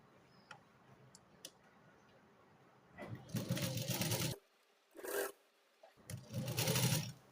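Sewing machine stitching blouse fabric with a quarter-inch seam margin, running in three loud bursts separated by brief pauses after some faint ticking, close up with no talk.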